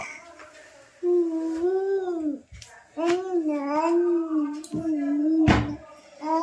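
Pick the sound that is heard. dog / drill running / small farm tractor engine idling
dog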